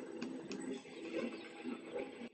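SimCity game sounds playing from an iPad, a faint busy clatter of small ticks and soft mechanical taps repeating under steady low background noise, with no talk.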